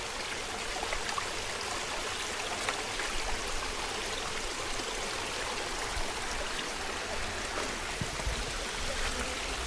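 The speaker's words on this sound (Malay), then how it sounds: "Ni sungai kecil je. Sungai yang keempat." A small forest stream on a mountain hiking trail flows steadily, a continuous close wash of running water with no pauses and no voices.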